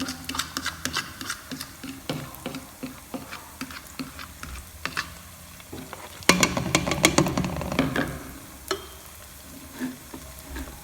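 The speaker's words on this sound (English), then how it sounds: "So now I took out the meat and I'll start frying it and everything else." Meat and onion frying in a pan for a South African dombolo dish, with a steady sizzle broken by clinks and scraping stirs that grow busier partway through, close and moderately loud.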